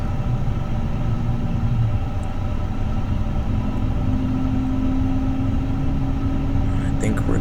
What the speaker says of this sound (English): Can hear those engines starting up.